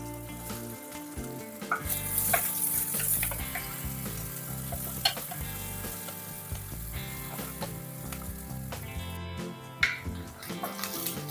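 Onions sizzling and frying in oil in a pan for a king fish head curry, with steady crackling and occasional stirring scrapes, close and alone without talk.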